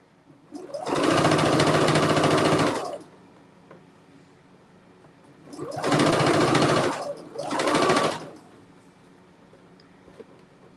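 A sewing machine stitches through thick quilt fabric layers where triangle corners meet, running in three loud, close bursts: one long run, a pause, then two shorter runs separated by a brief gap.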